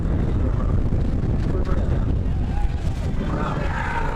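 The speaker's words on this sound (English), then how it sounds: "Wind starting to really kick up here" Strong gusting wind at an outdoor college football game buffets the microphone with a loud, steady low roar that swells slightly, as a commentator talks over it.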